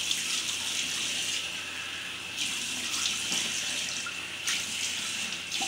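Tap water runs steadily into a sink while a face is rinsed during a makeup removal routine, a continuous close hiss with brief splashy surges.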